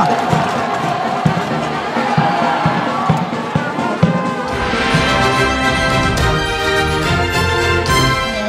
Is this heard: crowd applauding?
yes